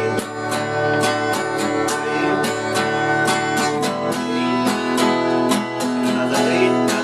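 An acoustic guitar strums chords in a steady four-beat rhythm, each down-strum crisp and ringing, close and clear with no talking over it.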